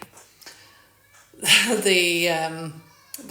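A small cat stuck beneath a car outdoors lets out one long, drawn-out meow, loud and close, after a few faint scuffing noises.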